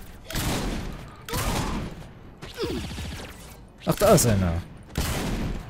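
Gunfire in Saints Row IV, several loud bursts of shots close by, spaced apart with short gaps between them, while someone speaks over the shooting.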